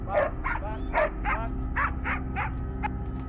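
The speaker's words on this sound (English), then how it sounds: "The dog's barking leads us to another hog trying to hide" A hunting dog barks repeatedly while tracking a wild hog through brush, sharp yipping barks about twice a second, close and loud over a low background hum.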